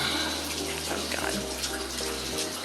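Tap water gushes steadily into a container at close range, a continuous splashing rush with a low hum underneath that shifts partway through.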